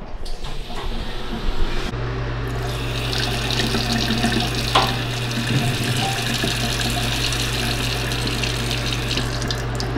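A newly installed bathroom tap runs with a steady, close rush of water that continues without a break. Another sound joins briefly near the start, and nobody speaks.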